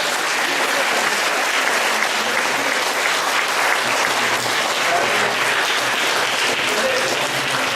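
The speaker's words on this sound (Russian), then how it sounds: "давайте еще раз бурными аплодисментами поздравим Карла Георгиевича" A university audience at Karl Georgievich Basharin's 75th jubilee bursts into loud, enthusiastic applause, a dense unbroken roar of many clapping hands sustained evenly for several seconds with no talking over it.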